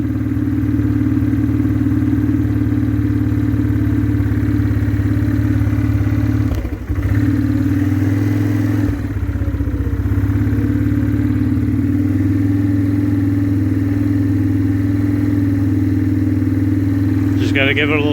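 A 2004 Yamaha Kodiak 450 ATV engine idles after a cold start with the throttle held, a loud steady close-up rumble with brief dips and a little clatter, while a person talks over it.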